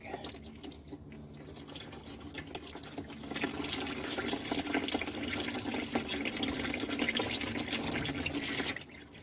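Transmission oil from an Aisin Warner TF-80SC gearbox draining into a bucket after the drain plug is pulled, a steady close splashing pour that swells and stays constant before stopping abruptly.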